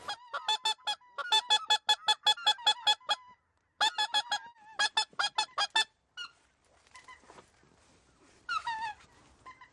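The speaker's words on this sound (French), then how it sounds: "des oies, c'est une certitude en Roumanie, des rieuses, il y en a" White-fronted geese honk repeatedly in flight in quick, rhythmic bursts over the Danube in Romania, several calling together, clear and fairly close, with quieter scattered calls trailing off toward the end.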